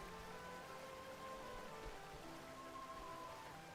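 Steady rainfall pattering on surfaces in the video game Xenoblade Chronicles, a constant even hiss of drops with faint tonal game music underneath and no talk.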